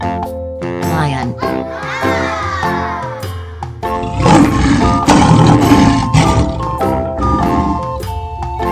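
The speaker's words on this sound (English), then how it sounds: "Lion." A lion roars loud and close, its rough, broad roar swelling in the second half over a bright musical backing.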